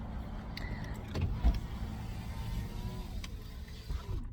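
Power windows on a car being raised, a whirring electric motor hum heard in short bursts over steady road and engine rumble from the parked or idling vehicle.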